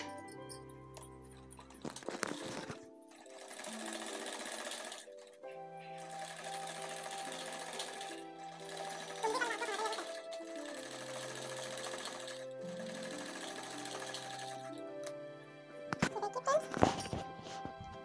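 A sewing machine stitches the folded bottom border of a ladies' suit in several bursts of fast, even mechanical whirring, with short pauses between runs and some handling knocks at the start and end.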